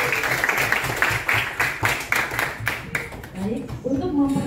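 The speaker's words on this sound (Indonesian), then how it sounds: "Oke, tepuk tangan untuk Dwi dan Nolin." A small group, likely classroom pupils, claps in a quick, loosely rhythmic burst for two presenters, fairly close and moderate in volume, thinning out toward the end as a voice starts to come in.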